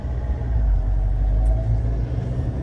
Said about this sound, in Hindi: अब देखो भाई चल क्या रही है गाड़ी